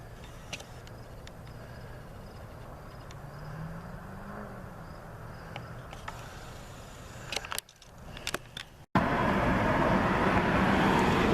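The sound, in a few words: car pulling out of a parking spot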